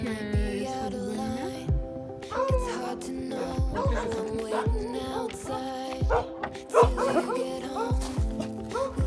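A newly adopted puppy in an apartment barks repeatedly in short, sharp yaps mixed with higher whiny yips, close and fairly loud, with a few moments of human voice in the background.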